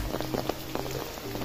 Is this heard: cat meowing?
no